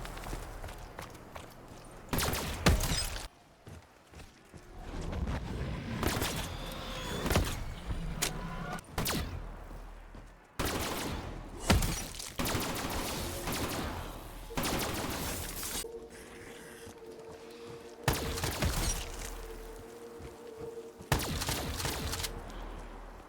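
Gunfire in the zombies game Shadows of Evil: repeated bursts of rapid automatic shots, loud and close, separated by quieter stretches with footsteps and ambient game noise.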